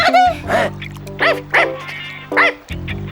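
A dog in an animated French series yips and barks in short bursts over a low sustained musical tone, with a voice speaking between the barks.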